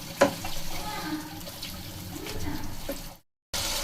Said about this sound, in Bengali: এই সামান্য একটু মশলা ধোয়া বাটি যেটা জল ছিল সেটাই দিয়ে দিলাম